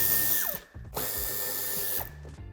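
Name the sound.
removing Torx 25 screws from Škoda Octavia bumper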